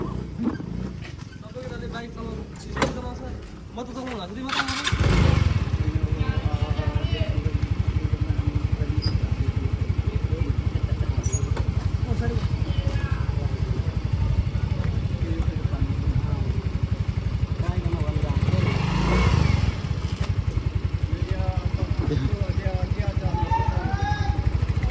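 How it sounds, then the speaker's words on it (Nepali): Motorcycle engine starting, then a steady running drone for the rest of the ride, with people talking and exclaiming over it. "वाह वाह वाह बाइक कुदाउनु पर्छ आज"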